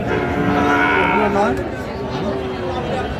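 A Sahiwal bull moos in a long, low drawn-out call close by at a cattle market in Gazipur, Bangladesh, with murmuring voices of a crowd in the background.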